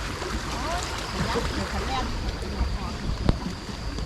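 Steady rushing noise of muddy red floodwater flowing from a pipe outlet, with a windy, outdoor wash and a short sharp knock near the end.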